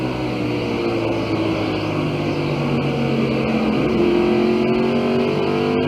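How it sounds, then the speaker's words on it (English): A Valvoline Ford NASCAR stock car at the 1992 First Union 400 runs at high RPM, a loud, sustained engine drone from the in-car camera with rising pitch through shifts, no voices heard. "the Valvoline Ford driven by Mark as he is a lap down"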